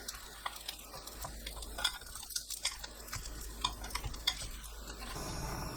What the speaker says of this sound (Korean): 동그랑땡을 기름 두르지 않은 팬에 한 번 더 구워주세요.